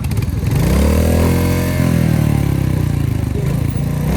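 A motorcycle engine revs steadily and loudly close by for the whole stretch, its pitch rising and falling with the throttle, as a rider looks for first gear.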